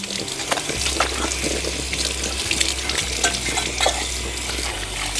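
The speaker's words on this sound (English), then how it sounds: "Go ahead and rinse our other piece off." A rusty metal piece being rinsed under a running tap, a steady close rush of water with a low hum beneath and scattered small splashes and clinks throughout, with no talking.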